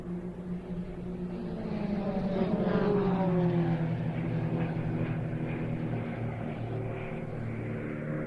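Royal Jordanian Falcons propeller aerobatic aircraft fly past in a three-ship opposition pass at an airshow, a distant droning engine hum that swells and sweeps down in pitch as they cross, with no talk.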